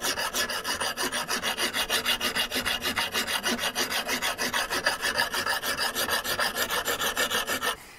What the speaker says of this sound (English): a file is going to be the quickest way of removing material